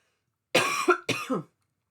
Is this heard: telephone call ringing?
no